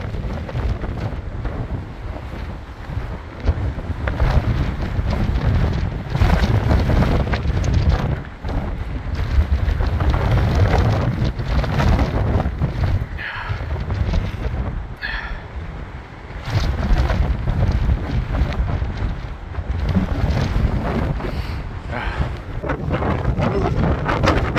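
Strong Hurricane Ian wind on Cape Cod in October 2022 roars and buffets the microphone continuously, with heavy low rumbling gusts that barely let up.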